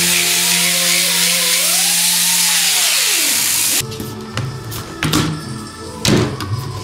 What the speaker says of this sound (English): Then we just have to grind the front bezel down to size and start shaping up the dash panel.